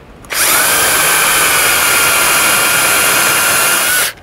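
A power drill with a 6mm bit drills out a 5mm rivet on a caravan roll-out awning handle, a loud, steady high-pitched whirr lasting about four seconds before stopping, with no talk.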